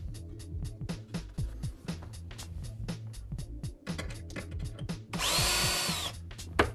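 Power drill boring into the bottom of a kitchen unit frame during cabinet fitting, heard close up in short repeated bursts with pauses, ending in one longer, louder sustained run of the motor.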